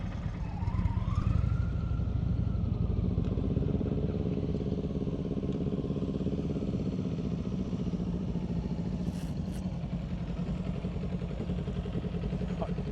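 A motorcycle idling and creeping along at walking pace during advanced slow-speed riding practice in New Jersey, a steady low engine rumble throughout with outdoor background noise.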